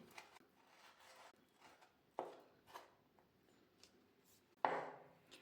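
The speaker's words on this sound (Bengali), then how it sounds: "এবার কিশমিশটা এইভাবে একটু কেটে কেটে নিচ্ছি।" A knife chops raisins on a board for Bengali carrot payesh: soft, scattered taps, then two sharp, louder knocks a couple of seconds apart, in a quiet kitchen with no talking.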